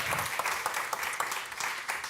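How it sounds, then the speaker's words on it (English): Brief burst of crowd applause, dense clapping from an audience that fills the whole moment. "Give yourself a round of applause for showing up."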